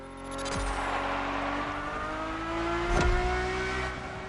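A Ferrari race car engine in the video game The Crew Motorfest revs with a steady, harmonic-rich drone, swelling briefly near the end with a sharp rise in pitch and loudness, and no voices present.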